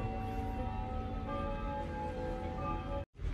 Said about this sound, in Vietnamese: cái độ ngưng của chiếc gông đồng sẽ tạo độ vang, nó mô phỏng lại cái âm thanh ngưng giống như những chiếc nhà,